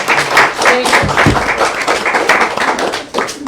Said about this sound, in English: if you guys would give them a round of applause